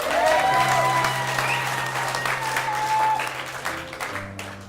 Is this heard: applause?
yes